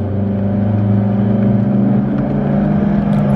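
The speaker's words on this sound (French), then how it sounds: "Ou une Maserati qui sort là-bas, ça défile." A Maserati and other sports cars driving past: a loud, close engine drone with a deep, steady hum that stays even and sustained.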